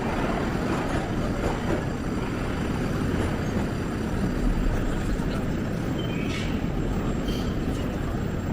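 A Moscow metro train rumbles through a station with a dense, continuous low roar of wheels and motors, loud and close throughout, with faint higher squeals and clanks riding on top.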